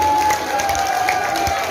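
An audience applauds at the opening ceremony of Bali Language Month, a dense, steady wash of clapping from a crowd that fills the whole short stretch, with faint voices underneath.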